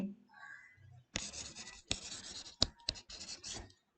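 A pen scratches across paper as accounting notes are written by hand, in short bursts of close, dry scraping strokes with brief pauses, after a moment of faint voice.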